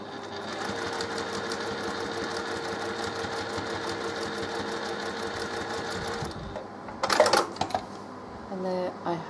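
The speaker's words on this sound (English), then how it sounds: "And there I have my pieces sewn together." A sewing machine stitching cathedral window quilt block pieces together runs with a steady, rapid close whir for several seconds, then stops, followed by clinks and handling noises.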